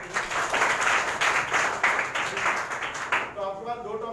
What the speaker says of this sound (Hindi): तो पहले ताली बजाओ सारे बच्चों।